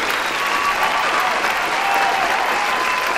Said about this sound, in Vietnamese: Vỗ tay nồng nhiệt.